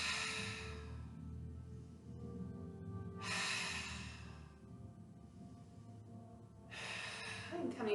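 Three forceful breaths pushed out through the mouth during a yoga twist, spaced a few seconds apart, each a loud breathy burst over a quiet room background.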